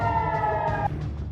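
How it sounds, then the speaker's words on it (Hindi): A military air raid siren wails at bases in Gililot, north Tel Aviv, a single steady sustained tone that cuts off just under a second in, leaving faint background noise. "उत्तरी तेल अवीव में गिलिलोड बस्ती में सैन्य ठिकानों पर सायरन बजने लगा"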